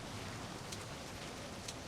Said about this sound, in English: And it's raining, even though it's not raining on the screen, so that's a thing.